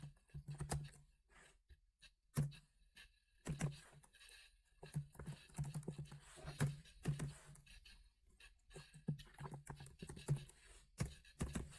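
Keyboard typing in a code editor, entering color names as comments, heard as irregular bursts of close clicks and taps with a low hum underneath throughout.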